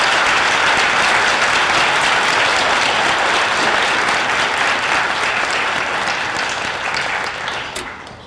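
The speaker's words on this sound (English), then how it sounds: "let's give Officer Strout a big round of applause." A school audience at an elementary D.A.R.E. ceremony gives a big round of applause for a police officer, dense steady clapping from many hands that fills the room and tapers off near the end.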